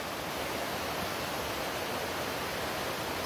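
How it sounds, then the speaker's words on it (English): A stream and a waterfall run beside a road bridge, giving a steady, loud broadband rush of water that fills the whole stretch without a break and with no voices. "I hear the stream, I hear the waterfall."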